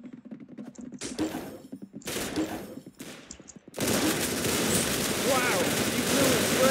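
Rapid video-game gunfire bursts out loud and sustained after shooting an enemy, following a stretch of speech-like sounds with sharp intermittent shots.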